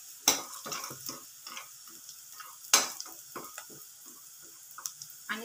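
Cashews and seeds dry-roasting in a home kitchen pan for a dhaba-style kaju curry, giving a soft crackle with scattered stirring clatters and two sharper scrapes, close and alone without talk.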